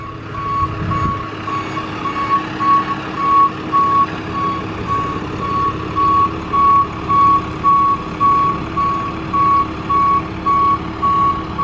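A tow truck reverses with a steady, regular backup beeper pulsing over its rumbling diesel engine while hauling a Galant VR4 into a driveway, the beeps loud and close throughout.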